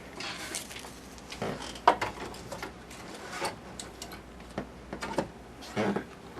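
Embroidery machine stitching out a holly design on a small piece of fabric, giving quiet, irregular ticking and clattering bursts at close range over a soft background hum.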